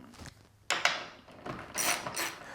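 A hand wrench loosens the leg bolts on a Stern pinball machine, giving metallic ratcheting clicks and scraping in short bursts, close and moderately loud.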